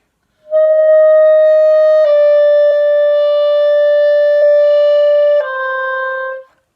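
A clarinet slurs between sustained high-register notes, each tone held long and smooth with no tongued breaks, loud and close, with three clean pitch changes before the last note fades.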